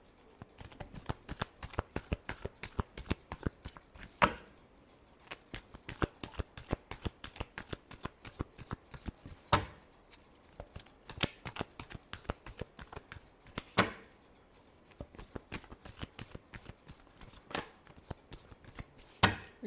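Tarot cards shuffled in steady rapid riffles for a long stretch, with a few louder bridging slaps and brief pauses between bursts, close and clear with no voice.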